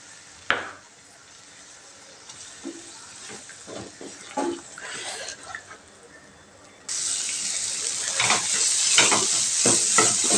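Two eggs fry in a pan with sautéed onions while being stirred for idli upma; scraping stir strokes and light sizzling start out soft, then a louder, steady frying hiss takes over partway through.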